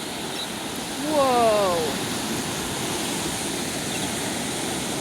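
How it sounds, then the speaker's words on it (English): Waves wash steadily onto a Florida beach in a continuous broadband rush, with a brief whistling bird call and a short exclaimed voice early on. "Just the sound of those waves."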